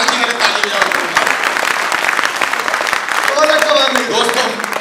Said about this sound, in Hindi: एक बार हमारे सरदार जी के लिए ताली बजाओ।